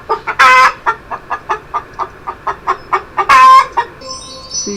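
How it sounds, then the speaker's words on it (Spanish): A hen clucks in a quick regular series of short calls, with two longer squawking bursts near the start and middle, heard alone and fairly loud. "Sí, es una gallina."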